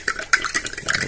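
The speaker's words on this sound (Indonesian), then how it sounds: "Nah, ini harus diaduk teman-teman, harus diaduk sampai dia benar-benar apa namanya itu merata teman-teman." Spoon or utensil stirring a herbal drink mixture in a container, a short run of light clinking scrapes with one sharper knock, close and fairly loud, no voices.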